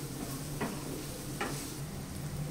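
Chicken and onions being stirred in a pan, a soft continuous frying hiss with two brief scraping clicks of a utensil against the pan, close and fairly quiet.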